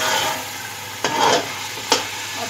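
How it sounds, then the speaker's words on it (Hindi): Cooked, tenderised mutton tipped into browned onions for biryani, a close steady frying hiss broken by two brief scraping stirs, no voices. "अब मैं इसमें जो गोश्त गला है वो इसमें पलट दूँगी।"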